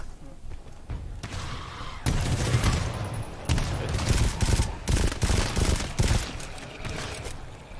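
Rapid bursts of automatic gunfire and heavy shots in the co-op shooter game GTFO, loud and dense with repeated volleys and impacts, overlapping faint players' voices.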